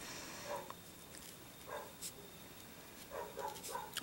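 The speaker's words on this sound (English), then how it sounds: "I am so sorry that dog is barking." A few faint dog barks sound from a distance, scattered in short bursts over a quiet room background.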